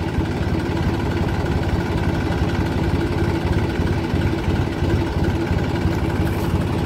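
An antique tractor engine idling, a steady low rumbling chug that stays loud and close without letup, with no voices over it.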